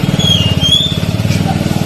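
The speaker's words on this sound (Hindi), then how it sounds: "बस बैठ गए हैं बाइक पर और चलते हैं" A motorcycle rides off along a village road, its engine a steady, close, pulsing drone that continues throughout alongside a faint high whine.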